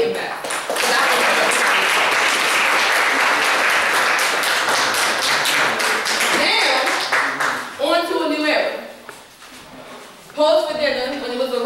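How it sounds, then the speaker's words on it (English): An audience at an open mic event claps loudly and continuously for several seconds, then the clapping thins out. Voices and a few cheers break through during the brief quieter spells. "I want y'all to clap it up for Nigel"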